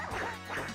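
A pet dog barks and yips for attention in a room during a Sega Saturn game session, two or three close, moderate barks in quick succession.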